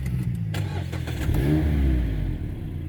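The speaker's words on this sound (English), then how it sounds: "The exhaust note of this car." A Mazda MX-5 2.0 SKYACTIV-G engine fires up with a few sharp exhaust pops, then revs in a throaty rising roar before settling; loud and close.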